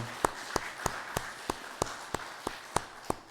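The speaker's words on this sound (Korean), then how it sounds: "박수 한번 하십시다" Congregation clapping together during a Korean church worship service, a steady series of about ten evenly spaced, sharp hand claps at a moderate pace in a quiet hall.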